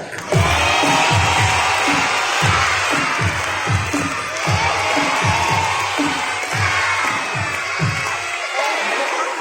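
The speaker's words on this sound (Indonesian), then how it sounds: "Tepuk tangan sambil teriak" Schoolchildren at an Islamic primary school storytelling event clap in a rhythmic beat while shouting and cheering together, loud and sustained, with the clapping pulses repeating steadily until they drop off near the end.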